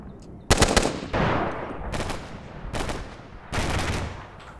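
Enemy machine gun and AGS grenade launcher fire in Combat Mission: Black Sea, several separate loud bursts of rapid shots with booming impacts trailing off between volleys, no talking.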